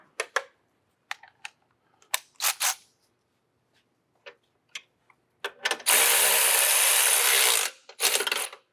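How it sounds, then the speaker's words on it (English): An electric ratchet snugs up a nut on a front control arm of a 2015-2021 Volkswagen Mk7 Golf R, a scattering of sharp clicks and taps followed by a buzzing two-second run and a final short burst. "I'm going to snug it up the rest of the way with the electric ratchet first"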